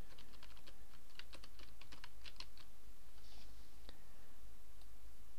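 Quick bursts of typing on a computer keyboard, light clicky keystrokes up close in the first half, then a few scattered taps over a quiet background hum.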